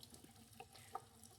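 Warm tap water runs into a sink while oil paint brushes are washed with regular soap, a faint, steady flow broken by a few small splashy knocks.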